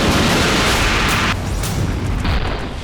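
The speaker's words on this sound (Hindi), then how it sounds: "आर्मेनिया अजरबैजान युद्ध का सबसे भयानक अटैक सीसीटीवी में कैप्चर हुआ है।" A massive explosion during the Armenia–Azerbaijan war, recorded on CCTV, hits as a loud, harsh roar of blast noise that drops abruptly partway through and leaves a rumbling, crackling aftermath.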